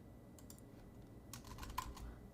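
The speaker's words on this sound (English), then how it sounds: "Start typing and then I get it." Quiet, close clicks of fingers typing on a computer keyboard, a few scattered taps followed by a quick burst of keystrokes.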